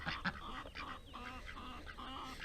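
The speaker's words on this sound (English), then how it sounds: "You can tell by the way he quacks." A male duck gives a quiet, raspy run of low honking quacks, faint and slightly distant, among farmyard animals during morning chores.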